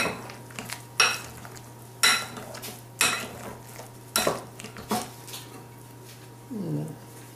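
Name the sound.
mixing eggs into potato gnocchi dough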